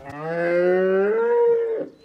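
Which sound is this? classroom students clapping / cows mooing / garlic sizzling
cows mooing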